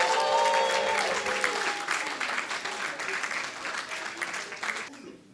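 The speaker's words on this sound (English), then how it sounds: "A round of applause." Enthusiastic applause from an audience, loud at first and gradually thinning out before fading away, with a voice briefly audible at the start.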